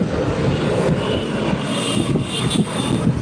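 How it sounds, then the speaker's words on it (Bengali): An airplane heading toward Dhaka airport, its engine roar a steady, loud broadband rumble that holds throughout with no talk over it. "বিমানটি চলে যাবে এয়ারপোর্টে"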